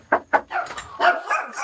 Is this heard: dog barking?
yes